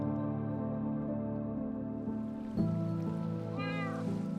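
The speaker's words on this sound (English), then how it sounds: "Hey, kitty." A cat meows once near the end, a short rising call over steady background game music and a low continuous hum; no one speaks.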